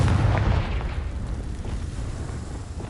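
A Confringo spell explosion in Hogwarts Legacy lands as a deep, close boom that fades into a low rumbling tail, with no voices.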